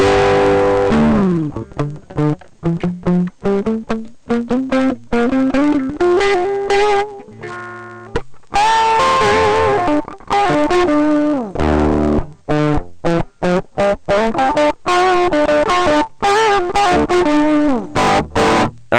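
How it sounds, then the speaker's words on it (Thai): Distorted electric guitar with a gritty overdrive tone from an ESP32-S3 microcontroller multi-effect unit, gain turned down low, plays a busy run of notes and chords, loud and continuous with brief pauses. "นี่คือเสียงโอเวอร์ไดร์เนี่ย"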